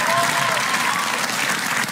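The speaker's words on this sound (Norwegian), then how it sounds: "Med en applaus." Studio audience applause for three guests at the close of a Norwegian television interview about Olsenbanden, a dense sustained clapping with a voice faintly present beneath it.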